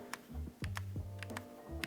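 Typing on a Windex 98 mechanical keyboard with a muted bottom-out and a clacky upstroke, a short burst of close, distinct keystrokes in an irregular rhythm, with no talking.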